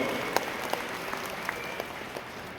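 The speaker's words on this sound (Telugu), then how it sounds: "ఈరోజు పార్టీలో చేరుకున్న పెద్ద ఎత్తున చేరుకున్న వారందరికీ ఒకసారి గట్టిగా చప్పట్లతో స్వాగతం చెప్పాలని చెప్పుకుంటాం" An audience at a party gathering claps to welcome a large group of new members, a steady patter of applause with a few sharper claps, moderately distant and sustained throughout.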